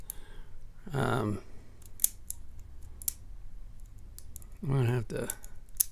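A Yale Euro lock cylinder being picked gives sharp, sparse clicks and ticks from the pins, close and crisp, with someone speaking briefly in short bursts between them.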